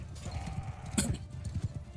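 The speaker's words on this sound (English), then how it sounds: "I guess with all this armor on, my horse is pretty slow." An armored horse gallops in the video game Mount & Blade 2 Bannerlord, a quick run of rhythmic hoof clip-clops with one sharper impact midway, fairly close and moderately quiet.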